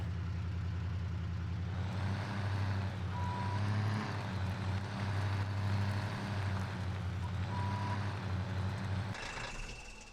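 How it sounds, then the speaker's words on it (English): A truck engine drones steadily in the farming video game Farming Simulator 17, a loud continuous low rumble that holds for about nine seconds and then drops off near the end. "Let's see if we move the truck a little closer here."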